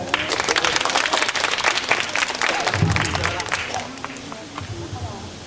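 An audience at a Thai school-style debate applauds loudly and densely for several seconds, then the clapping thins out and fades as a voice begins speaking.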